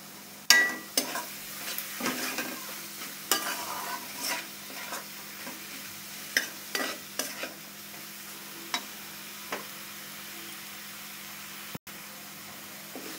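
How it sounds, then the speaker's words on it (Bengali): Ground shrimp paste fries in a pan for a vegetable curry. Faint sizzling runs underneath while a spatula scrapes and taps the pan in sharp, irregular strokes, close by. "ভালো করে ভেজে নিতে হবে চিংড়ি মাছগুলো, বেটে রাখা চিংড়ি মাছগুলো"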